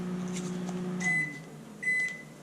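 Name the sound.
microwave oven warming water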